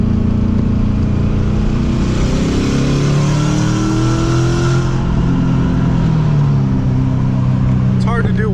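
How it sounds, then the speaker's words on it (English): A Pontiac Trans Am pulls hard in third gear at about 80% throttle, its engine roaring loudly and climbing steadily in pitch from close by, then easing off at the end. "I'm gonna try to give you guys just a little third gear pull here"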